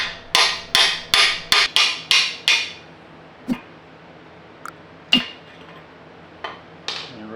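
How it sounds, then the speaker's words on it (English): A hammer striking a half-inch socket to knock welch plugs out of an RB26 engine block, a quick run of six loud metallic blows followed by a few scattered lighter taps and clanks. "So I'm just going to put a 1/2 inch socket in there and give her a few whacks."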